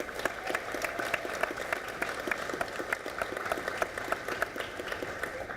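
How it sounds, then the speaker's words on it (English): Sustained audience applause at a school partnership announcement, dense steady clapping from a crowd, fairly even in loudness throughout with no talk over it. "That's a round of applause."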